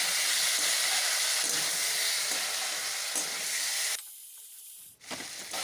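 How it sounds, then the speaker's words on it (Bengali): Chicken pieces dropped into hot oil with whole garlic and whole garam masala spices sizzle loudly and steadily while being stirred in the pan, the hiss briefly dropping away near the end, no talk. "এর মধ্যে দিয়ে দিলাম চিকেনগুলো, দিয়ে একটু নাড়াচাড়া করে নিচ্ছি"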